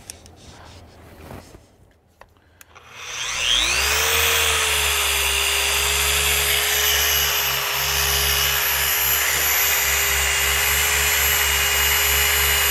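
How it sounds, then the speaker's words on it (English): After a few seconds of light handling noise, a Flex German polisher spins up to a loud, steady whine and hum as it works over scratched hi-fi speaker cabinets, close and continuous. "Flex polisher. It's a German polisher."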